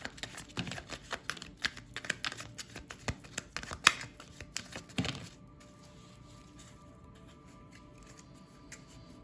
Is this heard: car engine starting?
no